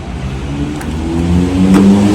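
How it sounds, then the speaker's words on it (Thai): Car engine revving high as an automatic gearbox slips between second and third gear, with worn shift valves and gear pistons. The steady mid-pitched engine drone rises in pitch and loudness over two seconds, close by, with no voices. "เกียร์สองกับเกียร์สามที่เปลี่ยนแล้วืดวาดนะครับ"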